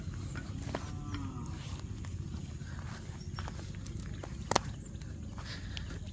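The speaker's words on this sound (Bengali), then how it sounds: "এই গরু এত খারাপ বদমাইশ এগুলা" Cattle being led out to be tied up after a day of rain, with a low lowing moo under steady rustling outdoor noise and shuffling hooves, one brief sharp knock partway through.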